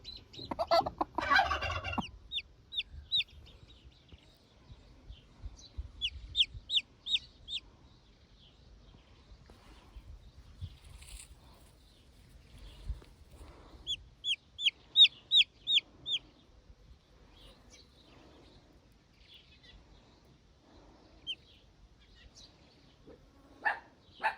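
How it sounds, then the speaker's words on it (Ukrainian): A farmyard hen with newly hatched chicks gives soft, low clucks while clusters of thin, high chick peeps come in short bursts, after a brief rustling thump at the start, in a quiet setting. "І вона нам там корчатка вилупила."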